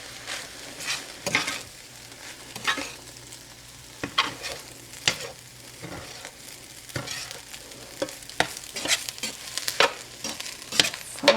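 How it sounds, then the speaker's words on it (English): Chicken fried rice is stirred in a hot pan, with repeated spatula scrapes and taps over a constant sizzle, close and rhythmic across the whole stretch. "we're just going to stir it up here"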